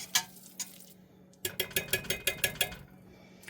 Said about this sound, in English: Just whisking it in here with the onions and the celery.